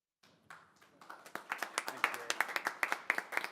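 Clapping at a council meeting that starts sparse and builds into steady applause from a small group, sharp claps growing denser and louder.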